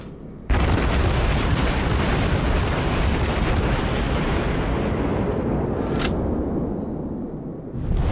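Heavy naval cannon fire in World of Warships: a dense, continuous barrage of booming gun blasts and rumbling explosions, loud and close, with no talk over it.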